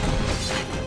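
A sword spin attack in the mobile tower-defense game Realm Defense: one short, loud crashing whoosh-and-impact, heard on its own.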